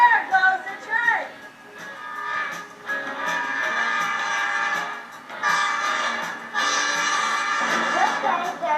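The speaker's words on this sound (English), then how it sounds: "There goes the train." A train passing with rumbling wheels and several horn blasts rising and falling, loud and near, while a voice talks over it.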